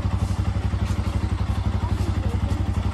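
A motorcycle engine idles close by with a steady, even throb as the bike is brought to a stop and parked.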